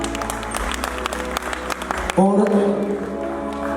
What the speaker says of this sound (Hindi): अमित शाह रोहतकिया के लिए तालियां।